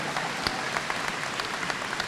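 Audience applause at a university convocation ceremony for 2022 graduates in Peterborough, a steady, moderately quiet patter of clapping spread across a large hall.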